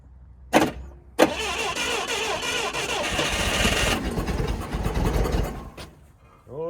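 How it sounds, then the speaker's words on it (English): An auction-bought forklift engine cranks and fires up, with two sharp backfire pops through the air filter before a loud, rough roar that fades after a few seconds, close and dominant. "it's backfiring out of the air filter"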